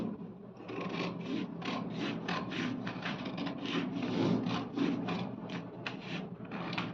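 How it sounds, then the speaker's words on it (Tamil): Scissors snipping through a paper pattern sheet along the shoulder line in tailoring, giving a steady run of soft, close, crisp cutting strokes with no voices. "ஷோல்டர் லைனை கட் பண்ணி எடுத்துகிற போகிறோம்."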